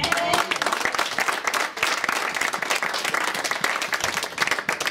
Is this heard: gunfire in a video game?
no